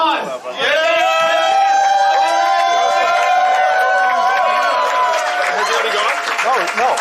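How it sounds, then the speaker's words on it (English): A fundraiser audience applauds and cheers loudly and steadily, with whoops and raised voices ringing over the clapping throughout. "giving a round of applause."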